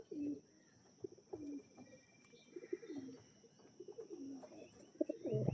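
Show-quality pigeons, including Andhra and black-line birds, give soft, repeated throaty coos with a few chirps, fairly close, against a quiet steady hum.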